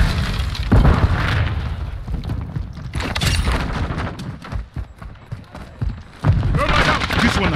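A grenade blows up in Modern Warfare II multiplayer, heavy booms and rumbling blasts mixed with gunfire and clatter, while players talk over the chaotic battle noise.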